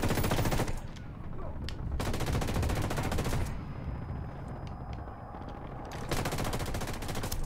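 Sustained bursts of rapid machine-gun fire from a game of Ghost Recon Wildlands, loud and close, broken by short pauses between long volleys, with a faint voice in the background.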